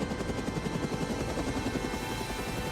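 Helicopter sound effect from the helicopter rescue scene in The Matrix, a steady pulsing rotor chop with dense low rumble, loud and continuous throughout with no talking.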